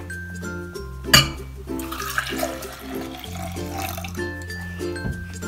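Vinegar poured into a container for an elephant toothpaste experiment, a close splashing liquid gush with a sharp splash early on, then a steady flow.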